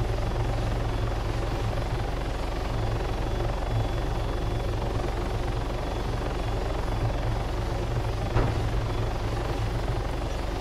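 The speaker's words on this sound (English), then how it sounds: "There is an attack chopper out there somewhere." An attack helicopter in the video game Arma 3 drones loudly and continuously, its rotor thrum and engine steady and close throughout, with a brief thump near the end.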